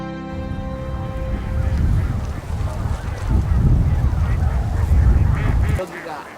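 Large wintering flock of Baikal teal calling, a dense, continuous wash of many overlapping quacking and honking calls that builds and rolls on. Distant voices and a broadcast music sting are at the start, and the sound cuts off at the end.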